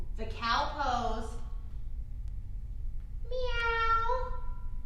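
During a kids' yoga session, a voice imitates a cat with two drawn-out meows. The first meow is near and clear, followed after a short pause by a second, higher one.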